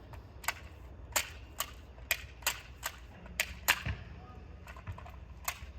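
Nerf Rebelle crossbow firing foam darts, a quiet series of sharp plastic clicks and snaps at an irregular rhythm, close up.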